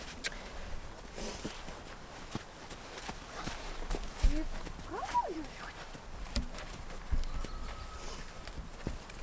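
A horse walks slowly over poles laid on the ground, its soft, irregular hoof thuds and an occasional knock against a pole falling under a person talking throughout.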